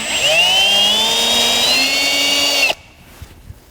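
A power drill bores into a Lexan panel for a custom instrument cluster, its steady rising whine running close and loud for under three seconds before cutting off abruptly, leaving faint handling noise.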